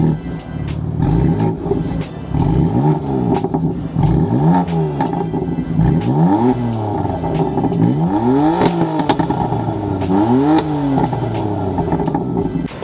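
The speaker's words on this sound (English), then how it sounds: "So now we'll give you a few revs of the F80." A BMW F80 M3 with stock exhaust, in sport mode with the valves open, is revved repeatedly while parked. Five or six loud, close blips rise and fall over a steady idle.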